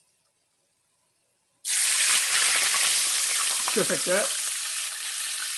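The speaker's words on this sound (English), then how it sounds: "You can just feel that one sizzle and that's it." Water poured into a hot pan of frying dumplings bursts into a loud, sudden sizzle after silence, then keeps hissing steadily and close, with a brief spoken comment over it.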